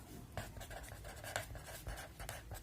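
Pen scratching across paper while working a Class 6 maths exercise, a faint run of short strokes close by, with no talk.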